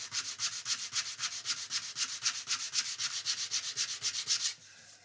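Steady back-and-forth sanding of a custom guitar body at a luthier's bench in Sydney, a quick rhythmic scratchy rubbing close by, loud and even, stopping abruptly near the end.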